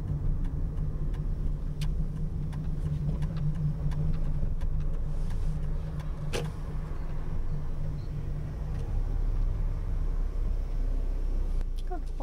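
Car engine idling and rolling steadily at low revs as a learner driver pulls up on the right into a car park during a driving lesson, a constant near rumble with a few faint ticks of the indicator.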